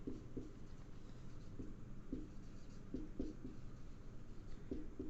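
Scratchy, intermittent strokes of chalk or marker on a board during an engineering lecture on beam deflection, short bursts spread over several seconds, moderately close with no talk.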